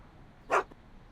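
Einstein the dog gives a single short, soft bark in the Back to the Future game. It rings out alone against quiet background ambience.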